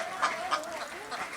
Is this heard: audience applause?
no